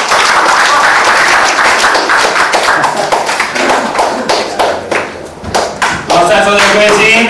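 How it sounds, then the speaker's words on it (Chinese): A seminar audience bursts into loud, dense applause to welcome a speaker onto the stage. The clapping is continuous and sustained, with some brighter ringing tones near the end. "我们欢迎阳光杨老师热烈掌声鼓励"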